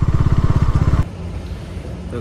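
A superbike idles with a rapid, throbbing engine pulse at a roadside dhaba, loud and close, then cuts to a lower traffic rumble while someone talks nearby.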